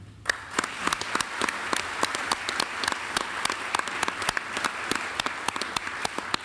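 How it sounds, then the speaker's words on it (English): Press conference audience applauding a Franklin County Commissioner's introduction, a thin scattering of distinct hand claps from a smallish room, irregular but continuous for several seconds. "were you clapping for him or for me?"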